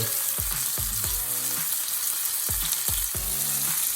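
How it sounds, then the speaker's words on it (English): Steak searing in a hot pan, cooked to medium while the fat renders, gives a steady loud sizzle with sharp bursts of spitting as the meat is turned, no voices. "So my steak's been cooking for about 3 minutes now, and I've just been turning it."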